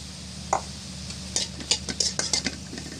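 Chopped onion and garlic added to a wok, a low steady sizzle under several sharp clinks and scrapes of a utensil stirring against the pan.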